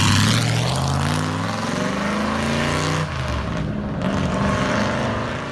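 Dan Gurney's Chevrolet Impala race car pulls away at Goodwood, its loud V8 engine roaring with rising harmonic sweeps as it accelerates into the distance, sustained and powerful throughout with no talk.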